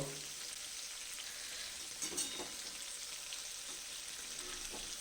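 Sweet stuffed rice-flour dumplings (kheer gokul pitha) fry in hot oil with a steady soft sizzle and a few brief pops, close by, quiet and continuous without speech.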